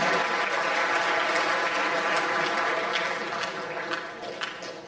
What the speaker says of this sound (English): Let's give our RCSC track for school a little bit of a round of applause.